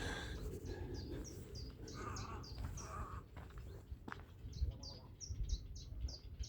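Wild white egrets call from trees outdoors at a château in Port Louis, Morbihan: short, harsh repeated squawks arrive in two bursts over steady outdoor background noise.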